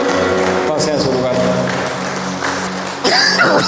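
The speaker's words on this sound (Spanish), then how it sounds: "Una ofrenda de aplausos a nuestro Dios" A church congregation claps together in a burst of applause over organ-like music, the clapping swelling louder in the final second.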